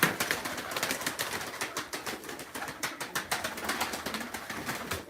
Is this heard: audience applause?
no